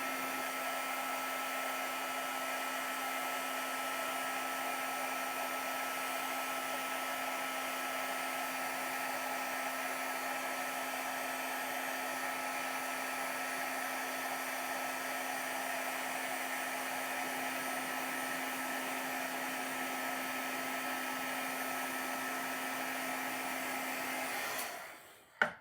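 Heat tool embossing powder on a stamped dog birthday card, blowing a loud, steady whooshing hum with a faint tonal whine for about 25 seconds, then cutting off abruptly.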